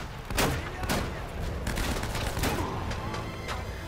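Bursts of gunfire from an Uncharted action video game crack out in a rapid, uneven series of sharp shots over a background of game ambience, moderately loud, with no speech over them.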